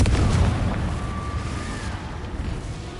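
A Confringo blasting spell explodes in Hogwarts Legacy, a loud booming burst at the start that rumbles and fades over a few seconds.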